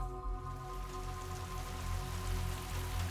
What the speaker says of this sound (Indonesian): Itu hujan, Mang.